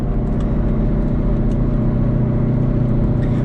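Steady road noise from a 2008 Toyota Prius on the move, a continuous low hum with tyre and wind rumble, constant in level with no speech.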